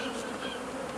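Honey bees buzz close and continuously around a hive that has been moved near the old one's spot, a dense, unbroken hum of many insects.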